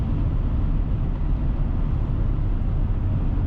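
Constant broadband road and engine drone inside a 1997 Chevrolet Silverado pickup cruising at 55 mph around 1,500 RPM, steady and unbroken with no talk.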